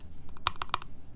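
Keystrokes on a rebuilt Keycult 1/60 Rev. 1 mechanical keyboard, a few distinct clacks in quick succession, close and clear against a quiet room.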